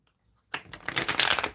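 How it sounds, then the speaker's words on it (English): A deck of tarot cards is shuffled by hand after a brief near-silence, a quick riffling burst of papery flutters building to a crisp close rustle. "I'm shuffling for Shake"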